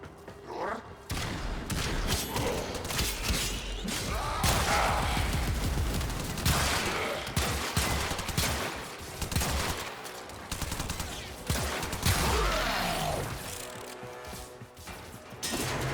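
A companion's laser gun fires rapid, dense bursts of shots in the video game Warframe, loud and continuous over layered game effects and music.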